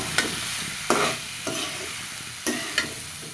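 Cooked rice being stirred into a hot potato and pointed gourd curry in a pot, several distinct scraping stirs over a constant sizzle, close and fairly loud.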